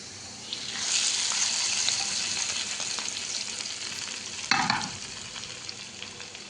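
Curry leaves fry hard in hot oil on a kappa (tapioca) biryani, giving a loud, steady sizzle and crackle, then a brief louder gush and hiss as the hot oil is poured over. No one speaks.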